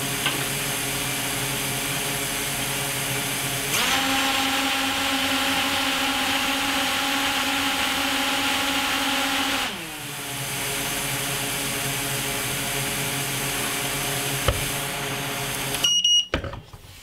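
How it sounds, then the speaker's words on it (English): Motors of a TOVSTO Falcon 210 racing quadcopter armed and spinning on a bench: a loud, steady high-pitched whine that shifts pitch partway through, dips briefly, then cuts out with a few crackling bursts at the end. "I'm going to go ahead and arm the motors and then turn the transmitter off"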